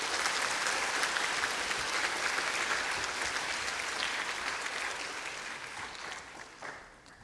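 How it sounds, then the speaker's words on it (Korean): Loud applause from an audience in the National Assembly hall at a children's parliament event, welcoming the Assembly Speaker; dense, steady clapping that holds for several seconds, then thins and fades at the end. "큰 박수로 환영해 주시기 바랍니다."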